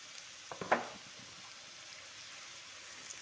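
Chopped tomatoes dropped into a pan of broad beans sautéing with garlic and onion, heard as one brief faint sizzling burst near the start before a soft, quiet simmer.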